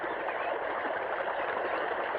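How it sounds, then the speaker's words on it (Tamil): Water rushes steadily along an irrigation channel on a farm, producing a continuous, moderately loud wash with no pauses. "வாய்க்கால எவ்வளவு தண்ணி போகுது"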